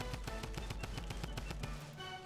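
Rapid automatic gunfire in Fortnite under heavy lag, a burst of sharp, evenly spaced shots rattling off close and loud before cutting out near the end.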